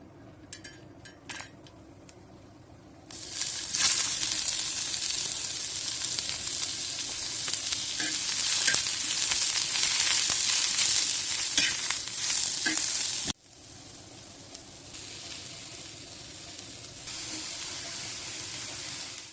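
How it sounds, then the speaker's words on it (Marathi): Coconut pieces and coriander stems are dry-roasted in a pan for a Goan chicken xacuti masala, giving a steady close hiss with stirring scrapes that swells in the middle and then drops quieter. "हे सगळं हे वाटण भाजून काढायचं."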